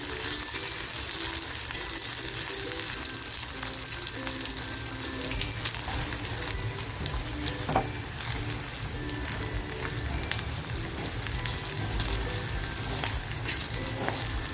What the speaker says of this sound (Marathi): अद्रक आणि लसूण टाकते बघा आणि हे सुद्धा आपल्याला याच्यामध्ये छान असं फ्राय करून घ्यायचं आहे